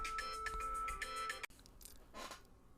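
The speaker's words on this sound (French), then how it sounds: "sonnerie intempestive" A phone ringtone plays a repeating electronic melody for about a second and a half before cutting off abruptly, followed by faint rustling and handling noise.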